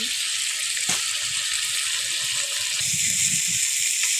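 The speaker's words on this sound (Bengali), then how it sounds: "মলাই মাছ এখন আমি দেখে দেবো একটু কষানোর জন্য" Small mola fish sautéing in a frying pan: a steady, bright sizzle that continues evenly throughout, with a few faint clinks and soft background sounds underneath.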